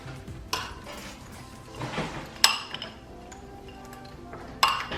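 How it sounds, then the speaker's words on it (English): Spoon stirring rainbow and pastel baking chips into firm cookie dough, giving scattered scraping strokes with a few sharp clinks against the bowl, close and fairly quiet. "So now I'm just going to stir these in until the chips are well combined."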